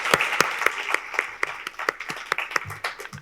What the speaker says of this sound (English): let's applaud and cheers